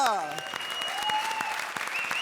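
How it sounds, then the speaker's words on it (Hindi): Studio audience applause welcoming two guests onto a comedy show stage, a steady dense clatter of clapping with musical tones and cheers mixed in. "जोरदार तालियों के साथ स्वागत कीजिए सलोनी और स्वस्तिका।"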